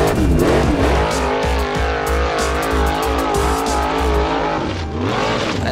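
Formula Offroad car powered by a GM LS3 V8 stroked from 6.2 to 7 litres, revving hard with loud, rising and falling engine notes close by, the surges coming in quick succession.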